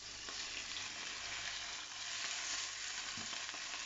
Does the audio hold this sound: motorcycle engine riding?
no